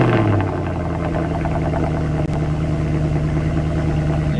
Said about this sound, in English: So now it is a bi-turbo, it's a 4 liter V8, and it still sounds like a V8.